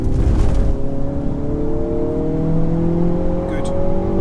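A race car accelerates hard out of a corner, its engine note climbing steadily and loud close by, with a brief voice near the start.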